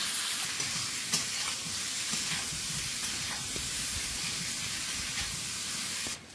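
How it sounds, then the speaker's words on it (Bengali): Potatoes frying in oil in a wok (kadai) in a home kitchen, a steady close sizzle and hiss running without a break, with a few light scrapes along the way before it cuts off at the end. "এইবারে কড়ার মধ্যে একটু তেল দিয়ে আলু ভাজবো"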